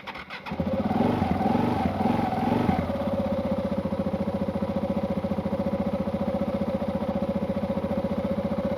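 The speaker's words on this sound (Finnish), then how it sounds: "no mutta nyt pyörä tuntuisi käyvän kuitenkin" A motorcycle engine catches after a short start attempt and settles into a steady, loud idle close by, with a busier burst over the first few seconds before a regular, even throb takes over.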